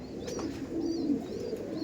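High-flying pigeons coo in the rain: low, soft cooing phrases repeat over a steady background hiss, fairly faint and distant.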